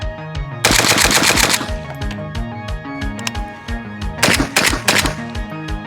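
American-made Zenitco-style Kalashnikov clone firing rapid bursts, loud sharp cracks in fast strings with brief pauses between two long volleys, up close.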